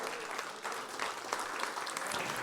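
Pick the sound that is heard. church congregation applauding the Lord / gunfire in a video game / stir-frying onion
church congregation applauding the Lord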